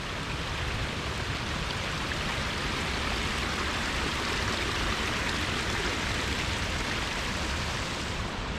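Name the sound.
small waterfall and stream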